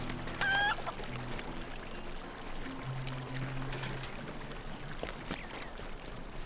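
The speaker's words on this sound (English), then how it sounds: "Should we go check out these chickens?" Chickens clucking and honking in the Lord of the Rings Online video game, intermittent fowl calls over a steady ambient background with a running-water wash, no talking.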